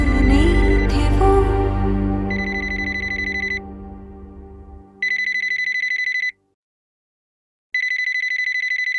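A telephone rings in repeated bursts of bright electronic trilling separated by short silences, following a fading stretch of music.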